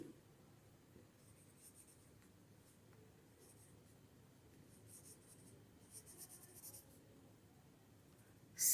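Words are written by hand on paper, giving faint, soft scratchy pen or pencil strokes in short bursts against quiet room noise, ending with a louder bump.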